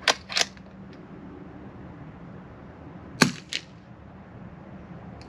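A Savage B22 .22LR rifle fitted with a suppressor fires in two close pairs of short, muffled snaps a few seconds apart, each followed by a brief metallic click, with no talk.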